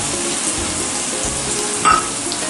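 Garam masala, fennel, turmeric and chilli powders sauté in a pan for prawn biryani, giving a loud, even frying hiss close up, with one brief metallic scrape near the end.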